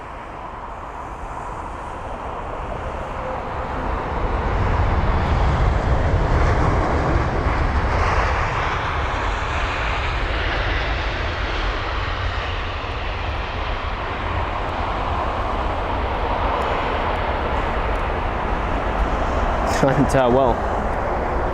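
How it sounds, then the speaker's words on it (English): A China Airlines Airbus A350-900 from Taipei lands at London Heathrow, its engine roar swelling from a distance and holding as a steady, loud rumble, with a person talking over it throughout. "This is China Airlines and the A350-900."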